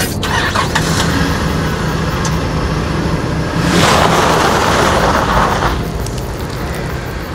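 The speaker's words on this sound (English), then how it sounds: "I'm sorry I let the car won't start." A car engine failing to start, heard as a loud, sustained cranking whir that swells in the middle and fades without catching, with no speech.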